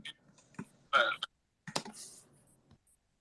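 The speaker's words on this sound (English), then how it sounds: "I'm just typing." Scattered, irregular key clicks of someone typing on a computer keyboard, close and quiet, with brief pauses between bursts.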